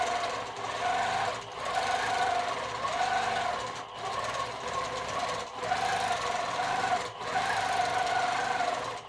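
A sewing machine stitches quilted feather patterns, its steady motor whir running in several bursts of a second or two, each separated by brief pauses.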